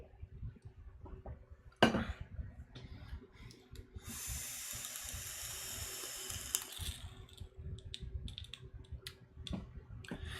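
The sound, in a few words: vape atomizer coil crackling with water on the coils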